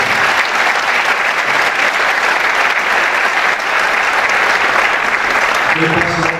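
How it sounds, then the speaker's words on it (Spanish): A theatre audience at an international folk festival gives loud, sustained applause, thick rapid clapping that fills the whole stretch, with faint voices mixed in near the end. "Un aplauso para Néstor."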